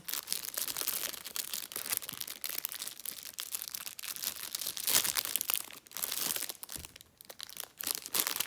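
Plastic foil wrapper of a Pokémon booster pack crinkling close up, a quiet, continuous run of irregular crackles and rustles with no voices.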